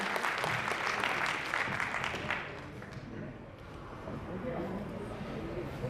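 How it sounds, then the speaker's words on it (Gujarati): An audience at an Ahmedabad municipal pensioners' association annual gathering applauds to welcome a speaker. The clapping is dense and loud at first, then eases to a softer, sustained patter. "જોરદાર તાળીઓથી આપણે ફરી એકવાર આવકારીએ છીએ"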